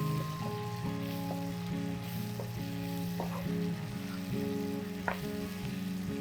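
A medium onion frying in a pan for aloo tarkari, with a continuous soft sizzle and occasional stirring scrapes and clinks, heard close and alone.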